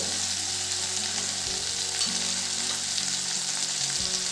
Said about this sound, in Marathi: छान परतून घेऊ आपण कारल्याच्या चकत्या तेलात छान